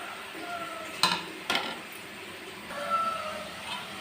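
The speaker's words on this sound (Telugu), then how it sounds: "ఇప్పుడు ఆనియన్ పచ్చిమిర్చి వేసేసుకుని వేపేస్తాను" Onions and green chillies fry in a pan with a low steady sizzle, broken by two sharp metallic clinks of a utensil against the pan early on.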